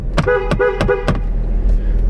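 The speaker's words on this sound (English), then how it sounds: "Horn works." A car horn honks four times in quick succession, short loud toots close by, followed by a faint fifth beep.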